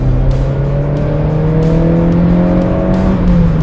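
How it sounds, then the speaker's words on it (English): A Mazda MX5 engine, its variable valve timing now working properly after restoration work, revs steadily with a droning harmonic note that climbs slightly, loud and continuous with no talking. "When you get to the top of the rev range, it's like a different car."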